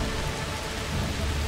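Rain pours down in the video game A Plague Tale: Requiem, a loud, dense, steady hiss of falling water with no speech over it.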